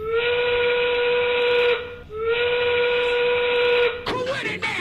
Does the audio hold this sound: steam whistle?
yes